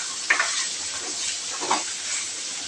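Chicken liver sautéing with mustard seeds and fennel makes a soft steady sizzle, with a few spoon scrapes and stirs against the pan, heard up close with no speech.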